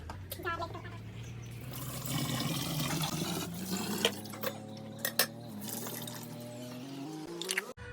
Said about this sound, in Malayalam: അപ്പോൾ നമുക്കിനി ഇഞ്ചി ഒന്ന് വാഷ് ചെയ്തിട്ട്